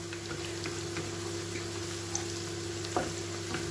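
Steady low sizzling of garlic frying in a pan with onions, a constant crackling hiss with a couple of faint clicks, no voices.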